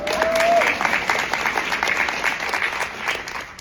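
An audience at a presentation claps in a sustained round that is louder at first and then slowly fades, with a brief tone near the start and a voice partly audible.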